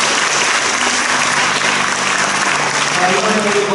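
Church congregation at an elders' ordination service applauds loudly and steadily, a full close wash of clapping with faint voices and a low hum beneath.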